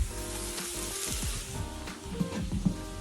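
Tomatoes go into a Cajun pork sausage skillet, met by a steady, close sizzle of frying with a few scraping stir clatters, and no talk.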